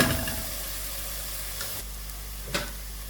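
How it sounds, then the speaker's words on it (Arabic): Onions frying in a pan, a steady low sizzle and hiss close by, with a couple of faint clicks or stirring knocks, no voices. "دركا كيتقلى البصل"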